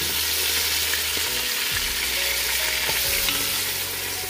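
Beef stew chunks for a Puerto Rican style carne guisada sear in a hot pot, giving a loud, steady sizzle broken by a few scraping stirs, with no talking.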